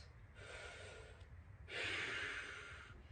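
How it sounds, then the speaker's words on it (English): Slow, deep relaxation breaths taken lying on the floor during a home workout: a long soft exhale, a pause, then a louder, fuller breath, close and quiet with no speech. "I'm going to take 5 relaxation breaths"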